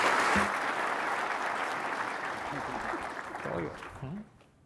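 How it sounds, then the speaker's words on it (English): A conference audience applauds soldiers with a broad round of clapping that fades toward the end, while people talk over it in the final seconds. "Let's give these soldiers a round of applause"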